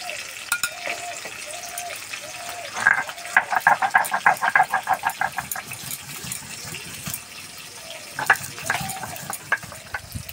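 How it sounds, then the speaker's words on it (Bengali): Fish sizzles as it fries in hot oil, a constant crackling bed under a run of rhythmic scraping and stirring strokes, with a few sharp clinks near the end. "এদিকে মাছ ভাজা হতে থাক"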